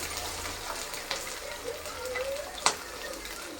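Curry leaves and potato pieces fry in hot oil with a soft, continuous sizzle and a few faint clinks of stirring, heard quietly and close.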